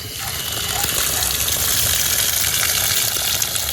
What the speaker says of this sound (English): And now we're going to turn the water back on and make sure it works.